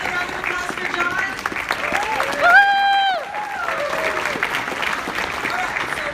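An audience applauds the speaker John at a Socialight 2016 talk with sustained clapping, while whooping and cheering voices ride over it, one rising cry standing out near the middle.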